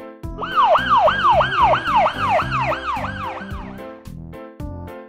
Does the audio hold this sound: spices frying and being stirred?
no